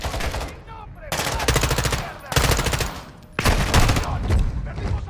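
Rapid automatic gunfire from a Call of Duty story campaign firefight, loud and close in several sustained bursts separated by brief pauses, with voices mixed in beneath the shooting.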